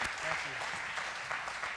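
A church congregation applauds in a brief, dense burst of hand claps, with voices mixed in over it.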